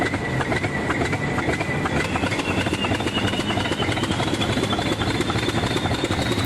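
Express train hauled by a diesel locomotive running on rails, a loud continuous rumble with rhythmic clickety-clack and a steady engine drone throughout.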